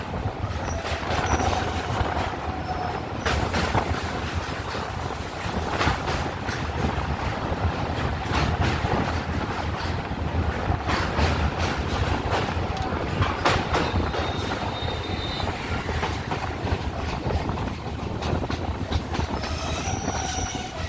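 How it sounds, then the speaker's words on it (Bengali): A train rolls steadily over a railway bridge across the Ganges, a constant rattling roar with clanks and occasional metallic wheel squeals, no talking. "গঙ্গা পেরিয়ে আমাদের ট্রেন প্রবেশ করলো বালিঘাট রেলওয়ে স্টেশন"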